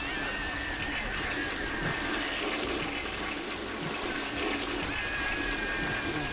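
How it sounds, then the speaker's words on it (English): A continuous rushing toilet flush in the video game Punch Time Explosion, Toiletnator's arcade stage, with steady swirling water noise filling the whole stretch at an even loudness. "I'll flush."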